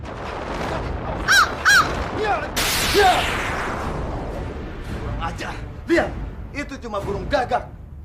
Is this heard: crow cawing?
yes